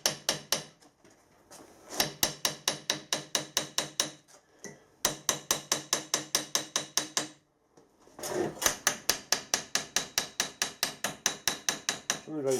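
A paper gasket being tapped out by hand with a hammer: close, sharp taps in quick, even runs of about a dozen strikes each, separated by short pauses.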